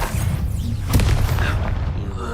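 Incendio fire spell cast in Hogwarts Legacy, a dense, rumbling burst of fiery roar lasting about two seconds, loud and close.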